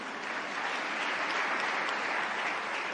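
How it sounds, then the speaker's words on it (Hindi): A large audience in a hall in Bhopal breaks into sustained, dense applause, a loud even wash of many hands clapping with no pauses. "वो उनके लिए ताली बजाओ जिनने हिम्मत करी कि हाँ हम कृषि वैज्ञानिक बने"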